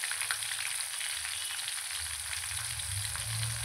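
Curry leaves sizzle steadily in hot oil for an idli fry, a continuous close crackle with no voices.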